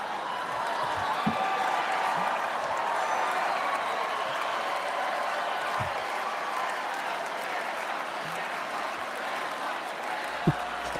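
A large crowd at the final day of the Republican National Convention applauds steadily, a dense, even wash of clapping that fills the whole stretch, with occasional louder claps and faint voices mixed in.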